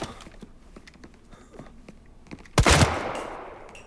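Gunfire in a mafia TV series episode: a few light clicks and taps, then one loud, sharp burst near the end that rings out and fades.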